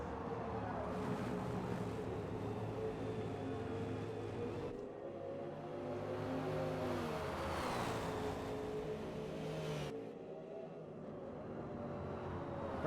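A Dodge Viper and a McLaren race at Kyalami in a sim racing game, steady droning engine tones shifting pitch through gear changes, with a rushing wind-like background and brief drops as the cars brake for corners.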